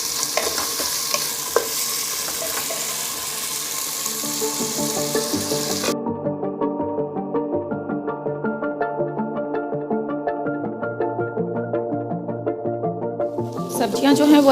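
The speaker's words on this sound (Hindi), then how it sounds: "और इन सबको हम अच्छे से भून लेंगे" Vegetables frying and being stirred in a pan for dal khichdi, with potatoes among them over medium heat: a steady close sizzle with rhythmic stirring scrapes, and a brief running-water wash at the start.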